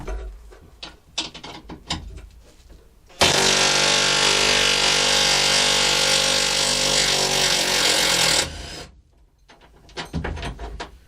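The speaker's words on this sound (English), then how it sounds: "there's a load of bolts here going through the matting from old seats," A power tool removes old bolts from a seat base through floor matting, with a loud continuous whirring rattle of about five seconds, framed by closer clanks and scraping of metal parts.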